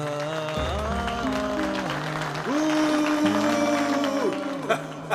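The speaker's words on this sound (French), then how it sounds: "Faites un tonnerre d'applaudissements pour Vishal Kapoor." Audience applause breaks out on a stage show and carries on under loud, gliding music that dominates the sound throughout.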